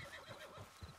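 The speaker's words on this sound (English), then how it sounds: "Alright, let's get on a horse." A horse in the Red Dead Redemption 2 video game gives a brief, faint whinny with light hoof clops beneath, heard alone at a distance.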